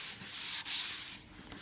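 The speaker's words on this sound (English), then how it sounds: "I'm going to sand it down just to get it smooth." Light hand sanding over a painted surface makes a close, raspy back-and-forth rubbing: a long stroke, a brief break, then another scrape fading out.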